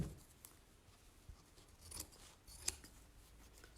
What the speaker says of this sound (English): It's gonna be a lot easier cutting this way.